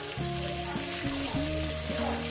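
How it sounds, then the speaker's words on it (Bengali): Rui fish frying in a pan for a light curry with plantain and potato, a steady close sizzle and hiss with sustained musical tones playing underneath. "দু মিনিট ভেজে নিয়েছি"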